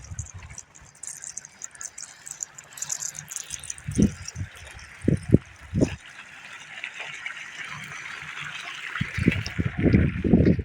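Water from a running motor pump flows along a field channel to irrigate okra, a steady trickling and gushing stream with louder splashing bursts, heard close and alone.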